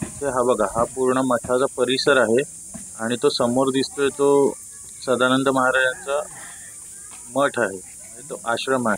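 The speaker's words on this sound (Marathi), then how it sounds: "तुम्हाला बॅकग्राऊंडला आवाज येत असेल तो बहुतेक तो रातकिड्यांचा आवाज येतोय." Crickets keep up a steady, thin high chirring in the background of an ashram compound, continuous and faint beneath a person talking almost the whole time.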